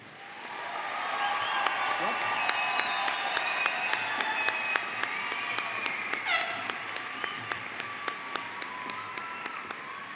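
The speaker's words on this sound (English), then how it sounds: "Please give them a round of applause." Graduation audience applauding the presented class of 2017 at a high school ceremony, a sustained wash of clapping with sharp individual claps standing out, at moderate distance, with a voice speaking over it.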